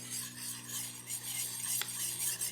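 A diamond sharpener rasps steadily along the edge of a weeding tool, a continuous close scraping with slight variations in stroke and no talk.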